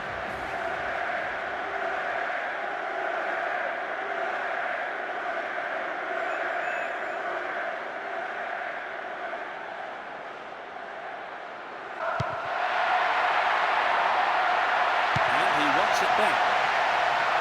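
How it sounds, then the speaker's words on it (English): A stadium crowd keeps up a steady roar for a group-stage match in a 2002 African Nations Cup football video game, swelling louder near the end, with commentary talk running over it. "Supporters of both teams are creating a tremendous atmosphere in the stadium for this group stage match"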